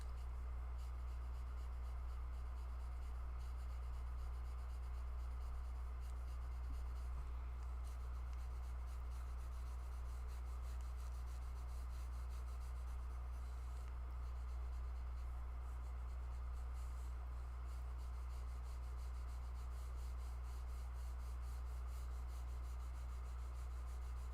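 A dulled pastel stick rubbed back and forth on paper to soften fur in a snow leopard drawing, a faint steady scratchy rub over a constant low hum throughout.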